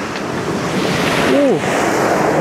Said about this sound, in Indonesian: Ombaknya.